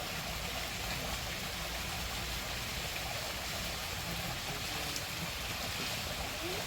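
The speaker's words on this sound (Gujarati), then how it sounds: "મોટર ચાલુ કરીને પાણી ભરે છે" A motor pumps water steadily during rain, water gushing through in a constant rushing drone with no pauses, moderately loud and nearby.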